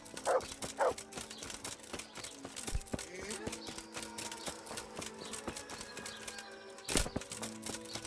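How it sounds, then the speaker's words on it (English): Dog barks in the medieval video game Kingdom Come: Deliverance, two short barks near the start and one sharp bark near the end, over a busy game backdrop. "By his bark, now. That's a dog."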